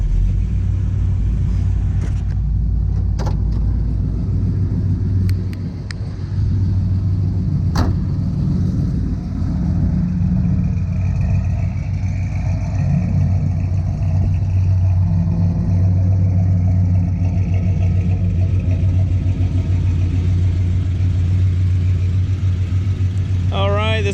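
A 1970 Monte Carlo SS454 muscle car with its 454 V8 engine drives with a steady low rumble and droning hum, loud and close for the whole stretch, with a few brief clicks and a short dip partway through.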